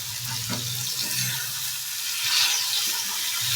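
Fried fruit pieces being stirred with turmeric and salt in a pan for a fruit chutney, a steady close sizzle with soft scraping stir strokes, no voices.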